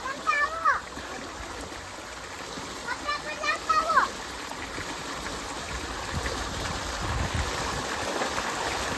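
Water flowing along a river channel makes a continuous, fairly loud broadband rush and gurgle, with children's voices heard briefly early on.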